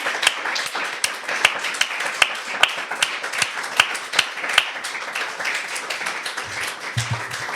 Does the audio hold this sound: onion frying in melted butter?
no